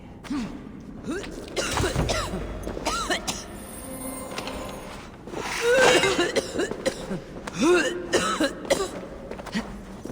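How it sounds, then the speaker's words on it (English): Several rough coughs and retching gasps in the video game Assassin's Creed Valhalla, close and fairly loud over in-game ambience and mechanical sounds. "Surely she'd hear us coughing up our guts like this."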